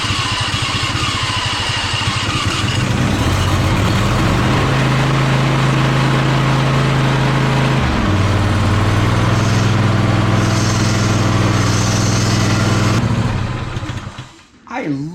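A Toro zero-turn mower engine runs loud and steady at full throttle, a continuous droning hum that shifts pitch slightly partway through before cutting out near the end.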